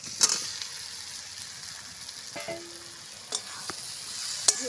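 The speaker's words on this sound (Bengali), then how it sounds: "ভালো করে আবার কষিয়ে নিচ্ছি আমি" Fried potatoes being stirred into a simmering fish curry of snakehead fish in a pan outdoors in a village kitchen, with a soft continuous sizzle punctuated by a few sharp scraping and clinking strokes of a spoon.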